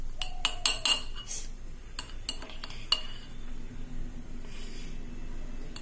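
A spoon stirs sugar into a mixture, giving several quick metallic clinks against the bowl early on, then softer scraping and stirring that fades toward the end.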